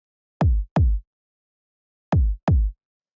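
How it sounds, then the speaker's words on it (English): Powerful kick drum sample for future garage: four deep, punchy hits in two close pairs, each with a sharp attack and short booming low tail, separated by silence. "It's just kind of like a powerful kick."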